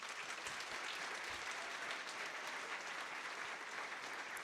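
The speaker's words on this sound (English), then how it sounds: "We need to give a nice round of applause to Mrs." Audience at a 2nd grade primary school musical applauds steadily, a dense, even wash of clapping from many hands that holds at constant level throughout with no voices standing out.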